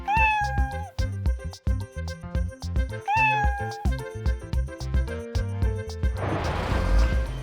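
Two clear, close cat meows ring out over a bouncy music backing with steady beats, then a brief crashing burst near the end.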